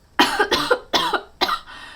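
A sudden coughing fit from a woman indoors: four sharp, harsh coughs in quick succession, close and loud, with no talking.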